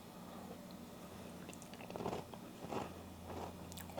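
Someone bites into and chews homemade banana pudding with custard, banana, whipped cream and crunchy vanilla wafers, a few close, soft crunches and squishy chews over a low hum, with no talk.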